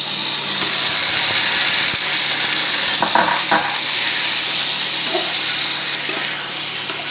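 Spice pastes fry in a cup of white oil in a frying pan, giving a loud, steady sizzling hiss with a few stirring clatters midway, easing slightly toward the end.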